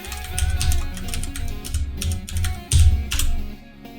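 Rapid clacking of keys on a computer keyboard as a folder name is typed, with irregular bursts of keystrokes close by and a brief pause before the last few taps.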